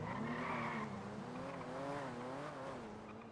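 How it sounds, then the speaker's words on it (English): Loud tire squeal from a car skidding in the GTA roleplay game, a sustained wavering screech lasting several seconds, close and prominent. "That car was loud."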